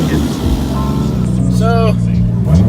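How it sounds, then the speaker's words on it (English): Car with a 1JZ engine and blow-off valve driving, a loud, steady low engine drone heard from close by, with a voice speaking over it. "So I'm gonna take it for a little drive and see how it does."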